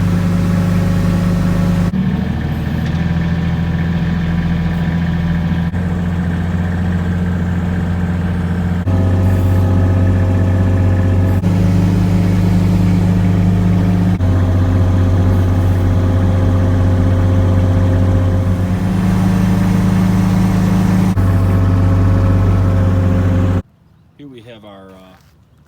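A Kubota X1100C utility vehicle pulls a Greens Groomer around a softball and baseball infield. Its engine gives a loud, steady drone that shifts pitch several times as it works, then cuts off abruptly near the end.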